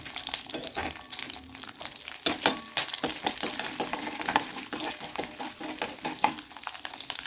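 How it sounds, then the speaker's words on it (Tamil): Mustard seeds, urad dal and fenugreek seeds sizzle and crackle steadily in hot oil, with brisk popping bursts throughout, close and fairly loud. "இதுக்கு தாளிக்கிறதுக்கு கடுகு உளுந்தம்பருப்பு சும்மா ஒரு பத்து வெந்தயம் சேர்த்துருக்கேன்"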